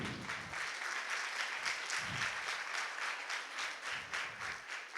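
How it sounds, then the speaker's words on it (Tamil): An audience applauds in agreement, producing a dense, continuous wash of clapping at moderate loudness that holds steady for about five seconds. "ஒத்துக்கிறீங்கன்னா கைத்தட்டலாம்."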